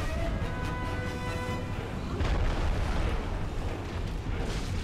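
Explosions burst and rumble in the Stray Demon boss fight of Dark Souls Remastered, one heavy boom rolling into the next to make a dense, loud, continuous roar.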